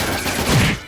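The Bullet Barrage attack in the Trails in the Sky game fires a dense, loud burst of rapid gunfire lasting about a second and fading out at the end.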